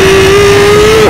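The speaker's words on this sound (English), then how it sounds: "Loud engines to wake up your dad from his" A Ford F-350 truck in Plane Crazy, its loud engine holding a steady, droning rev at close range with no pause for the full second, then cutting off abruptly at the end.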